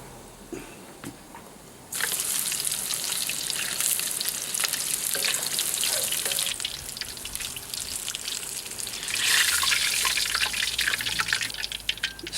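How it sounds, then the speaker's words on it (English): Battered mushrooms drop into hot oil and fry with a loud, dense crackling sizzle that jumps up suddenly and holds steady, close by, with a brighter surge of spattering near the end. "it's just a case of dipping the mushrooms, dropping them into the oil"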